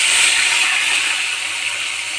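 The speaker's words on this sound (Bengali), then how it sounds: "তো মাছগুলো ভেজে নেবো।" Snakehead fish frying in a wok, a steady dense hiss of hot oil sizzling throughout, loud and close with no talk.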